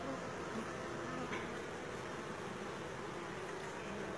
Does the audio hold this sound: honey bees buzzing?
yes